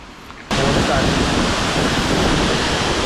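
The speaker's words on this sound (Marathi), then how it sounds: "आवाज ऐका किती फोर्स हे पाणी" Water bursts loudly from a partly opened dam gate, a sudden dense roar that starts after a brief quieter moment and keeps rushing steadily and close.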